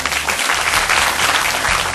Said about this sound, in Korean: 축하와 격려의 박수를 보내드립니다